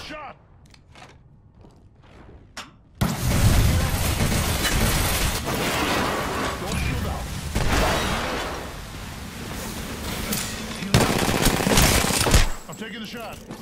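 Rapid gunfire rattles through a firefight in the Apex Legends video game, dense overlapping bursts running loud and nearly continuous for about ten seconds after a quieter stretch of scattered clicks and taps, then cutting off abruptly.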